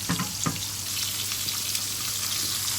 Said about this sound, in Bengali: মাছ উল্টানো হচ্ছে, বন্ধুরা এখন মাছ উল্টানোটাই তো কথা